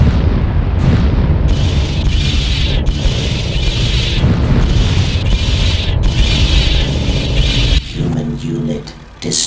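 A building explodes in the War of the Worlds game, a loud, sustained rumbling blast that fades out near the end, with a game voice announcement mixed in.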